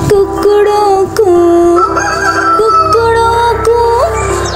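A rooster's crow in a children's animal-sounds song, loud and close, with long wavering honking calls that rise and fall. It might be a real bird or a voice imitating one, and a backing tune plays beneath it.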